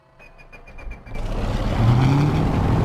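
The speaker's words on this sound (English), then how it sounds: "So the left engine roaring to life there" The left piston engine of a P-38 Lightning in Microsoft Flight Simulator cranks with a few rhythmic clicks, then catches and rises into a loud, steady roar.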